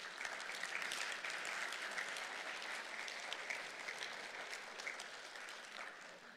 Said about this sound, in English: Why don't we thank her for her testimony to us with an applause.